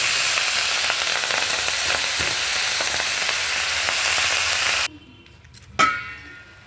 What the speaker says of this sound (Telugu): ఆవాలు, జీలకర్ర, పోపు వేగింది.